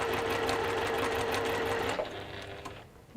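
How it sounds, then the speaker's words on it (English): A sewing machine runs steadily along a seam line, a close, continuous motor whir that holds for about two seconds, then slows and stops near the end. "So we're just going to sew on that line"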